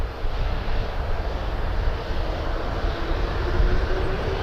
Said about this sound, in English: Crossing the runway so Porter can land